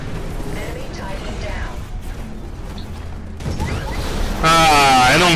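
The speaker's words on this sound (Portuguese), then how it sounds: "eu não vi que era explosão nuclear" A loud, booming nuclear explosion in the video game Titanfall bursts in near the end, rumbling over busy game noise and someone talking throughout.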